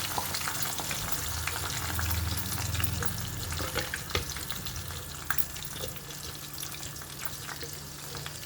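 Ground masala paste of onion, tomato, ginger, garlic and green chillies fries in a pan for fish curry, giving a steady, fairly loud sizzle with occasional stirring clicks and no speech.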